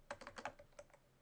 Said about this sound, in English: I need to type in my radio call sign